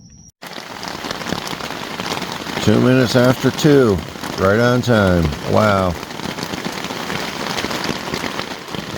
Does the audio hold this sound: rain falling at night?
yes